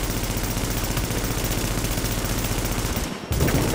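Rapid rifle fire in a video game, a dense, continuous stream of loud shots, briefly cut off near the end before resuming.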